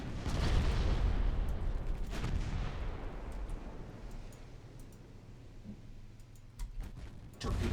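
A warship lets off a broadside in Ultimate Admiral Dreadnoughts, several deep overlapping booms at the start rolling into a long fading rumble, then a few scattered clicks and a late thud, no speech.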